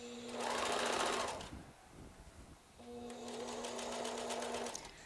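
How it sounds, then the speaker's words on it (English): Sewing machine stitching patchwork coat panels in two fast rattling bursts separated by a short pause, close and fairly quiet, with no talking. "Sewing more panels forever."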